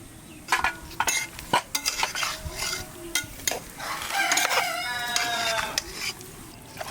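Spices (turmeric, Kashmiri chilli powder, cumin and coriander powder, salt) are worked by hand into raw mutton, producing wet squelching and rubbing sounds in uneven bursts, close and moderately loud, with a faint background sizzle.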